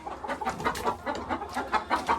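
Hens cluck softly and repeatedly in a henhouse, a steady murmur of short, overlapping calls close by with no talking.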